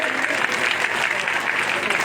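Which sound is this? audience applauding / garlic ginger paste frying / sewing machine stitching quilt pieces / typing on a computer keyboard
audience applauding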